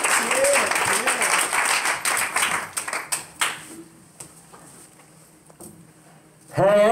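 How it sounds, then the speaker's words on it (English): Church congregation at a live service applauding, a dense burst of clapping that thins into scattered claps and fades, with voices heard over it. "That's why I give him a hand clap."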